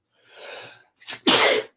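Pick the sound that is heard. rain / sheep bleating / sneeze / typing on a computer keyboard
sneeze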